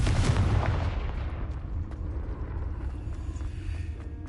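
A Confringo fire spell blasts in the video game Hogwarts Legacy, a single heavy booming explosion at the start that rumbles and fades over several seconds.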